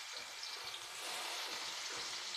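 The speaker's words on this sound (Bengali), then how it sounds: "কড়ায় তেলও গরম হয়ে গেছে। এখন আমি মাছগুলোকে ভেজে নেব।" Small khoira fish fry in hot oil in a wok, giving a faint, steady, even crackle that resembles light rain.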